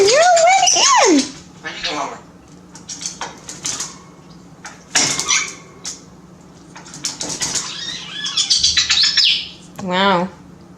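Allie, a wet pet bird fresh from a bath, gives loud whistling calls and chirps nearby, in scattered bursts between a person's chatty talk.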